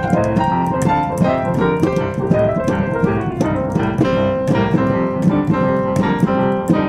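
Boogie woogie piano with a driving left-hand pattern, played solo and loud, with a continuous stream of rhythmic bass and treble notes and no voice.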